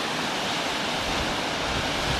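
Steady, loud broadband roar of a waterfall beside a creek on a hiking trail, a continuous rushing wash of falling water heard up close with no voices.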